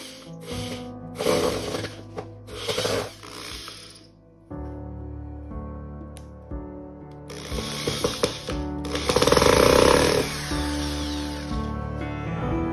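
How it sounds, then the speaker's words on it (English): A power drill fitted with a screwdriver bit drives a screw into a mosaic backing, giving repeated loud whirring bursts separated by pauses and quieter mechanical hum. "I changed out my bit to a screwdriver bit. I just screw the screw in."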